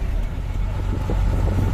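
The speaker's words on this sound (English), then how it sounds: "And then the Foden coming round the tractor unit." A Foden tractor unit lorry rumbles past at a vintage transport show at Glamis Castle, a heavy low diesel drone that stays close and steady throughout, with no voices heard.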